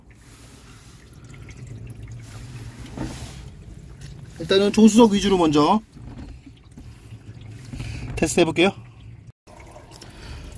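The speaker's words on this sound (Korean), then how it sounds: "지금 물소리 들리죠? 굉장히 많은 물을 뿌리고 있는데요." Water sprayed heavily over a BMW 5 Series F10 during a trunk and passenger-side leak test makes a steady hiss and splatter, with someone talking over it throughout.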